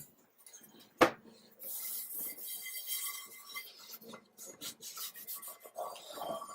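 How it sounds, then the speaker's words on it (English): A cloth wipes oil off a cast iron pan, inside and out, with repeated rasping, rubbing strokes heard close up, preceded by a single sharp knock. "So wipe off all of the apparent oil as well, inside and out."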